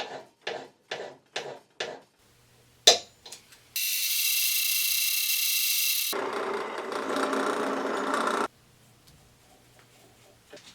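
Scrap electric motor powered by a homemade DC supply on a workbench: a few rhythmic clicks and clunks, then a loud steady whine for a few seconds that shifts to a lower, rougher hum before cutting off.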